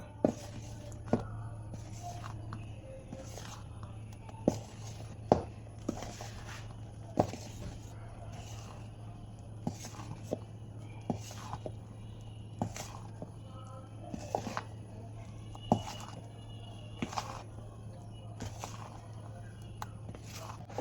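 Sifted flour being stirred into sponge cake batter in a bowl, with scattered soft scrapes and sharp taps of the utensil against the bowl at an irregular pace over a low steady hum.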